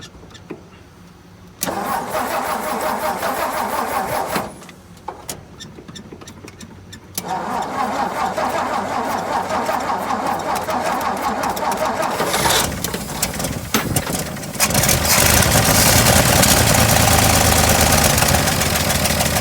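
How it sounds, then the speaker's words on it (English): A 1963 Ford F100 engine, started for the first time in years, cranks in several bursts with short pauses, then catches and runs in a rough, loud idle with slight knocking, as people talk nearby. "Look at that, it's idling. Just needs more gas."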